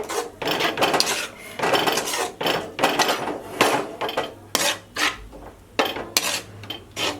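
A spoon stirring tomato jam in a cooking pan, with no water added, gives repeated scraping and clinking strokes against the metal, close and fairly loud, in irregular bursts with no talking.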